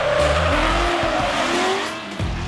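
Tires squeal and howl as a car does a burnout in a convention center parking lot at the SEMA show, with a loud, continuous roaring engine and a shifting screech lasting a couple of seconds.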